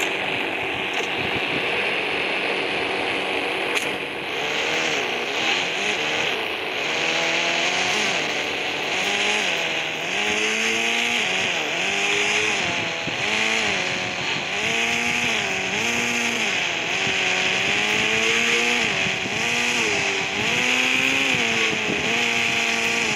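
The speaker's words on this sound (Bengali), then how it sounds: "আমি পুলিশ কারে করে যাই।" A police car driven in the mobile game Indian Bikes Driving 3D, its engine droning steadily and loudly, pitch climbing and dipping with repeated revs throughout, with no talking.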